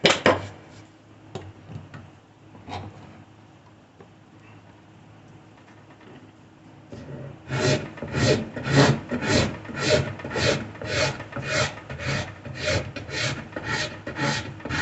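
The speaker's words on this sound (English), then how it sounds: "Now I'm using the rough side of my rasp right now, and using this rough side." The rough side of a rasp files wood: a few scattered scrapes at first, then a quiet pause, then a steady run of strong, rhythmic rasping strokes, about a dozen close, even passes back and forth.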